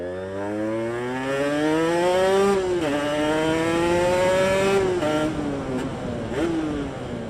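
A two-stroke dirt bike with a sticking power valve solenoid revs loudly and close by, the engine pitch climbing steadily, dropping sharply, then rising and falling again in repeated throttle blips, with no talking.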